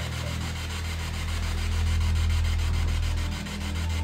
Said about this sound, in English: that device allows ghosts to use white noise from radio frequencies to connect with the living